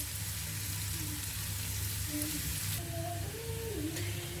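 Steady crackling sizzle of potatoes frying in butter in a pan, continuous and close, with a low hum underneath.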